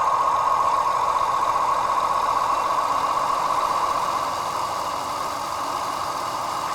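A model railway Warship diesel locomotive sound decoder runs its engine at a speed step of 30, giving a steady, loud, even hum without a deep throbbing bass pulse, continuous throughout and with no talk.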